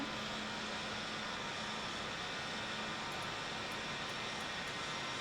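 Continuous broadband jet roar from an F-16C taking off in a flight simulator game, steady and fairly faint, with a few brief high ticks near the end.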